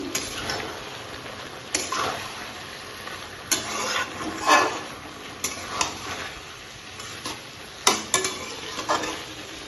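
Small fish curry simmers in a pan while it is stirred with a spoon, giving a soft bubbling sizzle and a series of sharp clinks and scrapes against the pan at irregular intervals, with no speech.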